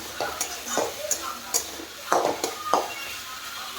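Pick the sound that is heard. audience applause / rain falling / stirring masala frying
stirring masala frying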